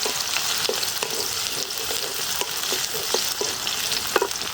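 Chopped onion fries in a pan with a constant close sizzle. Occasional stirring clicks and scrapes sound above it, and no voices are heard.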